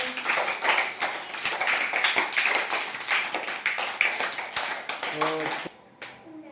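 A group of schoolchildren in a classroom claps together for two classmates, a dense, steady patter of many hands close by that fades out near the end, followed by a short tonal voice.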